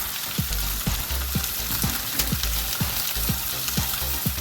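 Bologna and onions frying in a pan give a loud, steady sizzle with soft, regular stirring scrapes and thumps repeating about twice a second.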